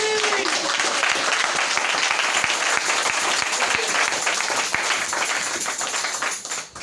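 A church congregation breaks into sustained, loud applause, dense clapping filling the space for several seconds before tapering off at the end.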